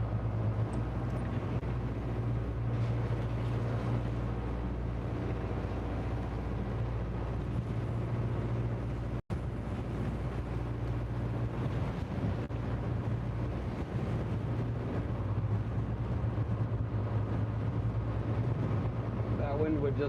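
Fishing boat engine idling in gear while anchored in Alaska, a steady low drone that runs the whole time. Wind buffets the microphone over it and a brief dropout cuts in partway through.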